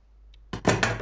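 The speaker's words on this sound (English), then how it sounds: "you can just cut away excess fabric" Scissors cut away excess fabric during bespoke tailoring. After a half-second of near silence come a few close, crisp, broadband snips and rustles.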